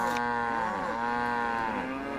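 A sustained, loud cartoonish cow moo from a cow-herding minigame in the Nancy Drew: The Captive Curse computer game, its pitch rising and bending across about two seconds, heard alone.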